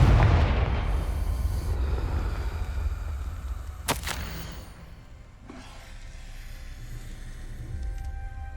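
A Confringo fire spell detonates in Hogwarts Legacy, a loud booming blast over a dense rumbling battle bed, followed by a sharp crack near the middle and continuing low roar.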